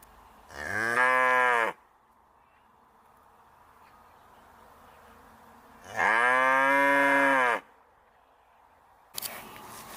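A cow lets out two long, loud moos several seconds apart, close by in a quiet rural setting with faint insect buzzing, and a brief noise at the end.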